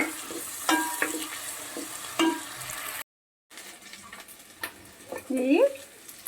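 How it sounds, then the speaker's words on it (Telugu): Ginger garlic paste fries in a pan while being stirred, giving a close sizzle broken by scraping spoon strokes and a brief cut in the middle, with no voices. "కొంచెం అల్లం వెల్లుల్లి పేస్ట్ వేద్దాం. ఇది కూడా కొంచెం పచ్చివాసన పోయే వరకు వేసుకుందాం."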